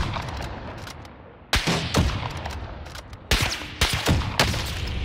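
Gunfire in the video game Call of Duty Modern Warfare, several sharp, loud shots and short bursts at irregular intervals over quieter background ambience.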